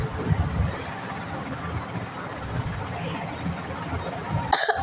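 A low rumbling background with a few muffled coughs, followed by a sharp short noise at the very end.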